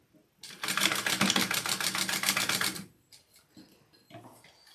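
A sewing machine joins strips of binding in one rapid, rhythmic burst of stitching that lasts a couple of seconds, followed by faint handling noises.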